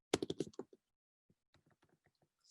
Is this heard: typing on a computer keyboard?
yes